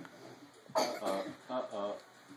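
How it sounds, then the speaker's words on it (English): A few short coughs close by, with a pause between bursts, over faint background noise. "He's just had to stop and cough"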